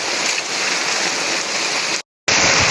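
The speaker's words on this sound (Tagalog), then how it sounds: "Naabot na tayo mga idol ang ulan. Lakas ang ulan." Heavy rain pours in a dense, steady roar, briefly cutting out for a moment before the downpour resumes just as loud.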